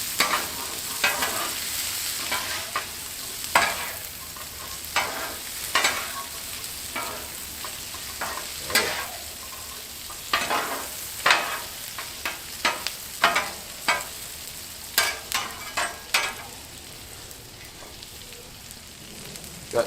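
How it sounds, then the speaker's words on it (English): Garlic parmesan mushrooms stirred on a Blackstone griddle: a steady sizzle with repeated sharp scrapes and clacks of a spatula against the flat top, close and fairly loud, with no talking. "Alright, go ahead and stir that up."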